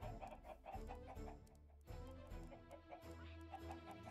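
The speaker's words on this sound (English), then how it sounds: "Oh, my chicken." Chickens in a video game cluck and squawk in short repeated bursts over a low rumbling backdrop of game sound.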